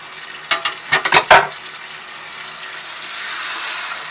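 Water poured into a hot pan of chicken tikka gravy, a few sharp splashing bursts followed by a steady soft sizzle and bubbling that continues quietly.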